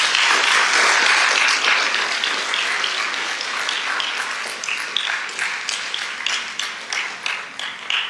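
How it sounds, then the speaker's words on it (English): Audience applause at an international school event, a dense burst of many hands clapping that starts full and gradually thins into scattered, uneven claps over about eight seconds, with no talking. "You can clap. You're allowed to."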